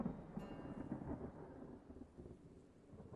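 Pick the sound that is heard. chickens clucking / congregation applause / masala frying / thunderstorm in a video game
thunderstorm in a video game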